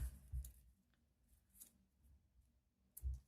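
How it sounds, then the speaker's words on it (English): Scissors snip through a narrow 5mm paper quilling strip, giving a few soft, close cuts spaced apart in a quiet room. "you're going to cut it in half because we only need half of it"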